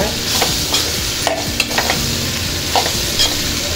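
Boiled elephant yam pieces sauté in oil with a loud, close sizzle, while a spoon scrapes and stirs through the pan with repeated knocks and clatters.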